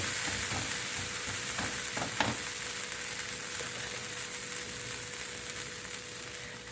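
Watermelon dosa made from fermented batter sizzles on a hot pan, a constant close frying hiss with a few small clicks and taps near the start.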